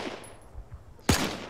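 A single loud, sharp gunshot cracks out in a D-Day airborne combat game, preceded by quieter battlefield noise and distant thuds.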